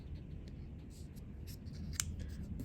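Sheet of origami paper being folded, with soft crinkling and rustling under a steady background hiss and one brief, sharper crease sound near the end.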